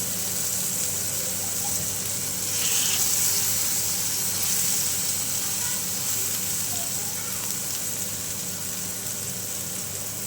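Masala-coated brinjal fries in a pan with a pinch of asafoetida, giving a steady, loud hiss and sizzle throughout with a brief swell near the start.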